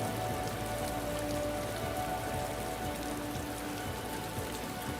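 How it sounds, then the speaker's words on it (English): Heavy rain pours down in a steady, dense hiss of drops striking surfaces close by, continuous and even throughout with no voices. "Most people will not go outside when it's raining heavily like this."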